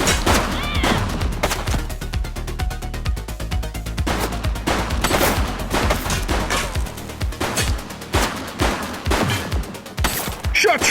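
Gunfire crackles in The Precinct police video game, a loud, close run of rapid shots and bursts that carries on almost without pause, with heavier single blasts punctuating the stream.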